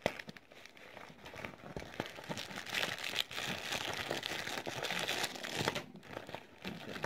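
A small plastic zipper case being opened by hand, giving a steady stretch of crinkling and rustling handling noise, close and moderately loud, with no talking.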